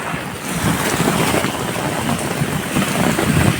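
Loud, dense rush of heavy rain pouring down during a thunderstorm, a constant broadband roar close to the microphone without any talking.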